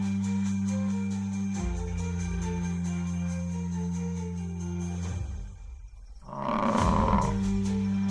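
A deep, sustained male lion roar with strong low rumbling tones, fading briefly before a loud, rasping final burst; close and powerful.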